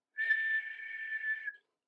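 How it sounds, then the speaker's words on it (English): A steam engine whistle blows once, a single clear sustained tone lasting over a second with an abrupt start and end, alone against silence. "Just then the whistle blew,"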